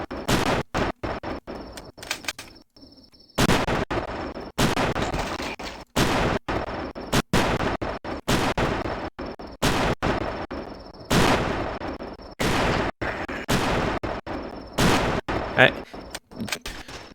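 Gunfire aimed at a zombie in a video game, with sharp, loud shots coming in irregular clusters and brief gaps, some fast bursts, with talking between them.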